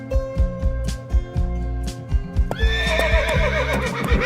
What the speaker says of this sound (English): This horse is an ancient breed of horse indigenous to the Camargue area in southern France